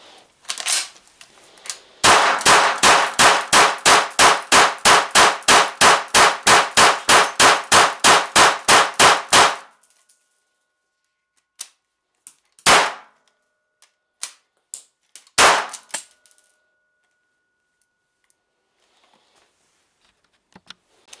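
A GSG MP 40 9mm blank-firing submachine gun: a rapid burst of about twenty sharp, loud shots at a steady fast rhythm, then silence and two separate single shots with metallic clatter.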